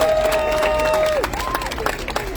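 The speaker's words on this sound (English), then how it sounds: "give yourselves a huge round of applause" A crowd at an outdoor candlelight vigil honoring AAPI victims of violence applauds and cheers, with a rising whoop over scattered clapping in the background.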